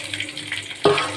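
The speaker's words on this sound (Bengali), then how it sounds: "রসুনটা আমরা আগে একটু ভাইজা নিই।" Garlic fried in a pan for a sesame and dried-fish mash, a soft steady sizzle that jumps louder near the end as more goes into the hot oil.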